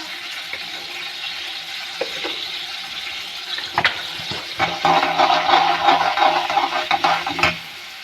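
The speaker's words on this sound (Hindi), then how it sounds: "और ऑयल भी गर्म हो चुका है। इसके अंदर डालते हैं हम टमाटर और सब्ज़ मिर्च।" Tomatoes and green chilies drop into hot oil in a pan, a soft hiss that builds into louder, crackling frying with a few clinks of the utensil, close by.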